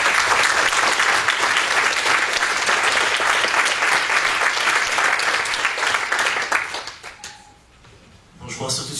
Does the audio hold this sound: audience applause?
yes